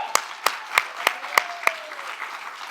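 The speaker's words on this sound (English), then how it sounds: "I want to give them a quick round of applause just for being amazing and for being here" At a youth poet laureate showcase, about six sharp, evenly spaced claps ring out close by, slowing and fading toward the end rather than swelling into a full crowd ovation.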